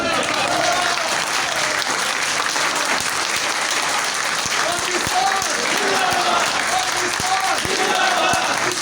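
A crowd at a local government workers' union welcome ceremony in Peshawar makes a dense, continuous roar of clapping and cheering, loud and close, with no breaks.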